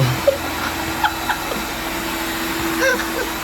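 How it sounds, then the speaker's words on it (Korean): A floor-standing body dryer blows air upward from below, a steady close whooshing hum with faint clicks and brief voices underneath. "이 위에 올라가면 몸을 말려주는 거"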